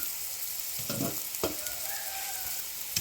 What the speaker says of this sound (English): I'll stir it. Now goes my ginger garlic,